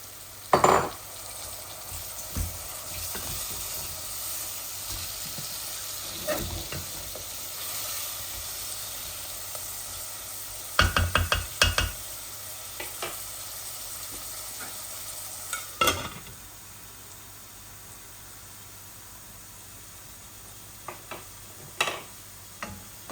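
Shrimp and vegetables sizzle steadily in a pan, punctuated by several sharp clatters and scrapes of a utensil against the pan.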